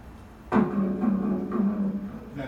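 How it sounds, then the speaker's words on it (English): A lobster produces a buzzing rasp in a tank shared with a cod, starting abruptly and continuing as a steady low droning buzz with faint pulsing for about two seconds, fairly close and clear with no talking. "That's the sound of the lobster."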